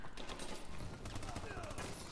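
Rapid bursts of X12 gunfire crackle through a video game firefight, dense and continuous for a couple of seconds, with voices talking over the shots.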